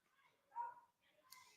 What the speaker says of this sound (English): you guys can hear a dog losing its mind in the background